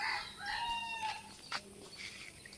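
A rooster crows and hens cluck in a Bangladeshi village yard in the morning, the calls fairly close, with a short sharp knock near the middle and no talk.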